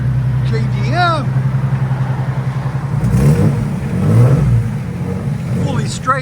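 A 1994 Nissan 300ZX with a 3.0L engine, fully straight-piped with a MagnaFlow dual-in, dual-out muffler delete and twin tailpipes, burbles loudly at idle, then swells through two throaty revs.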